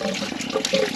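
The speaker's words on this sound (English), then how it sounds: "I have a catch pan underneath, hopefully catching most all the coolant that's pouring out of the motor" Coolant pours out of a Ford Transit 350 3.7L V6 engine into a catch pan underneath during a water pump replacement, a steady close splashing gush with slight surges, no talk over it.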